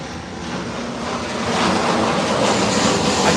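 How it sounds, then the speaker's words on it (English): Large airplane flying low overhead, a broad, loud roar that swells steadily and stays close, with no talking. "Airplane."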